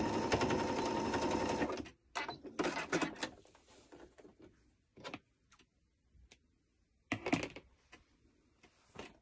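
A sewing machine stitches a peplum top, starting with a steady loud run of about two seconds, then short stop-start bursts and clicks as the fabric is adjusted.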